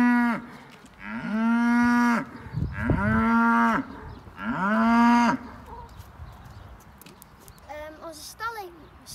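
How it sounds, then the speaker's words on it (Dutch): Cows bellowing several long, loud moos one after another while being brought into a barn, followed by quieter background sounds and a voice speaking. "We gaan nu onze koeien binnenzetten."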